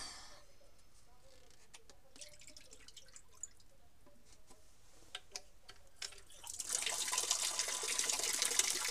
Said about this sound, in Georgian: ჩავუსხით წყალი ჩვენ კურდღლებს